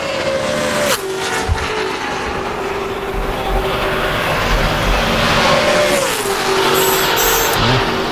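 A NASCAR Nationwide race car on a 2009 qualifying lap roars loudly and continuously, its engine pitch holding high, dipping as it lifts for corners, then climbing again under steady wind and track noise.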